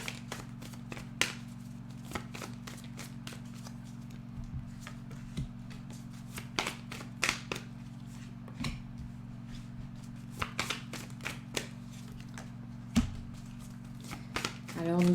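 Oracle cards being shuffled for a five-card cross spread, a steady run of soft papery riffles and taps close by, no talking throughout.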